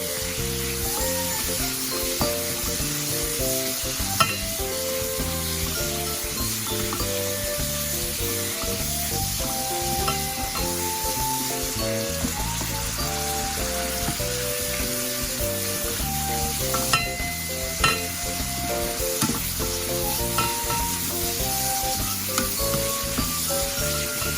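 Pork stir-frying in a pan for a northern Thai dish of pickled mustard greens with bean sprouts, giving a continuous sizzle with stirring, mostly covered by loud background music throughout.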